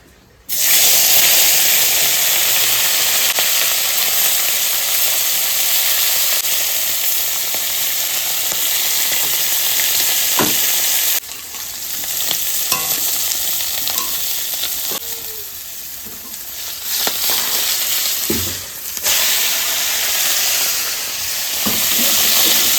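Turmeric-coated khoira fish fry in hot oil, producing a loud, dense sizzle that dips and swells as pieces are turned, with brief scraping knocks of a spatula.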